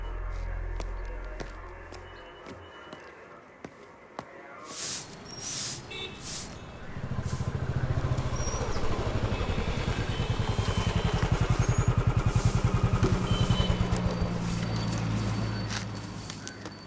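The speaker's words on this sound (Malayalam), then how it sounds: "ആ വണ്ടിന്റെ എഞ്ചിൻ അയക്കടാ" A motorcycle engine starts up and runs steadily for the second half, loud and close, after a quieter stretch with scattered clatter and knocks.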